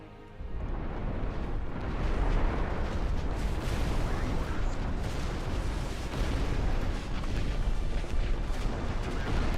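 Mortar fire in the RTS game Ashes of the Singularity 2: a continuous loud barrage of booming explosions and rumbling impacts layered thickly over each other, with a voice briefly talking underneath.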